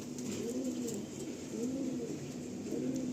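Racing pigeons in a loft coo softly and repeatedly, three low rolling calls at a steady rhythm, faint and close over a constant background hum.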